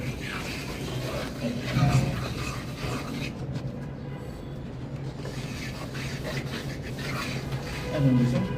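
A trowel spreads and draws plaster mortar across a wall during electrical switchboard fitting, a steady soft scraping and rubbing that swells slightly at moments, with faint voices in the background.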